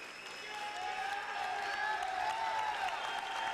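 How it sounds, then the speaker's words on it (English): Coffee County basketball fans give a sustained round of applause at a girls' game, a dense steady wash of clapping that holds at an even level from start to finish. "The Coffee County fans with a big round of applause for Rockvale and their effort tonight"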